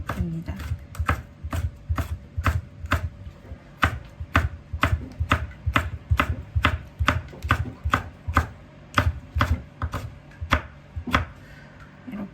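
A knife slices a bell pepper thinly on a cutting board, landing dozens of quick, even, crisp chops at a steady rhythm. Nobody speaks.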